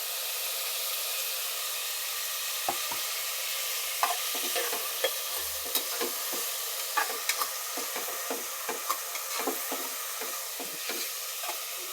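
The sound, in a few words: frying and stirring for tomato pulao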